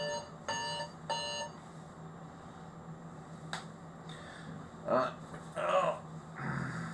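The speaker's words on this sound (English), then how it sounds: "alarm's going off on my phone." A phone alarm goes off indoors in a shed: a few short repeated electronic tones near the start, then quieter rustling and handling noises, with no speech over it.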